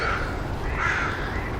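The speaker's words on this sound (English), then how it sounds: "Can you hear the crow?" A crow caws outdoors in two drawn-out calls, fairly close and clear over steady background noise, with no voices.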